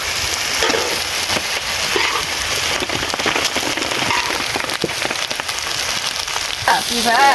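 Continuous crackling sizzle of rice frying in a pan with tomato sauce, dense and loud throughout, with occasional clinks.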